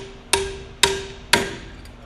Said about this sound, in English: mallet tighten